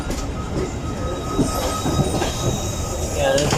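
41 UP Karakoram Express passenger train rolling on rails between Karachi and Lahore, captured from the last coach: a steady close rumble of wheels with squealing metal tones rising near the end.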